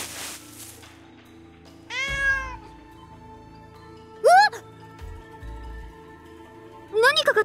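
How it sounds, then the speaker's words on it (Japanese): A cat in a video game gives several rising and falling meows, one drawn out and others short and clipped, loud and close over a soft game music bed, with speech heard too. "何かが飛び出してきました。今のは猫？"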